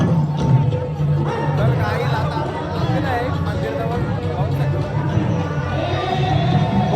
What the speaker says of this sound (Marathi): गर्दीच गर्दी